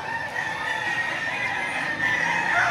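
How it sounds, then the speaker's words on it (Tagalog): Roosters and chickens at a poultry market in Padre Garcia crow loudly and close by, with clucking underneath, filling the short stretch without a pause. "yung mga nakaparadang manok dito mga boss oh."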